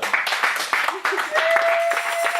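Church congregation at a worship service applauding the Lord, a lively burst of close hand clapping mixed with voices.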